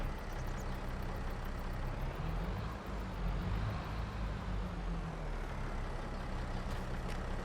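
Steady drone of a worn, high-hour tractor engine in Farming Simulator 22, a continuous low rumble that holds loud and even throughout with no voices.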